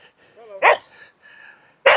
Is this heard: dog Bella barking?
yes